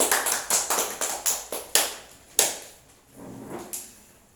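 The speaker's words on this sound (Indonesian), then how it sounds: "Tepuk tangan temannya." Classmates in a school classroom clap together in a quick run of about a dozen crisp, evenly spaced claps that slow and trail off toward the end, close and fairly loud with no talking.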